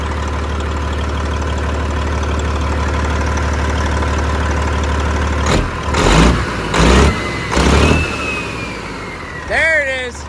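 A Peterbilt 379 truck's diesel engine idles with a steady low rumble, then gets several short bursts of throttle that swell and fall back, followed by a rising whine near the end.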